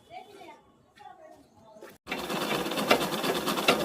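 After some quieter handling noises, a pico machine starts up and runs steadily, finishing the edge of a saree with a continuous whirring hum.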